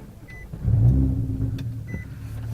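A Honda CBR 954RR Fireblade motorcycle heads out onto the highway, its engine a low, close rumble that swells after a moment and then holds steady.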